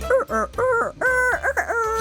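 A person's voice imitates a rooster crowing in a strained, gurgling way during an animal-call contest, giving two loud harmonic crow phrases in quick succession with no other talk.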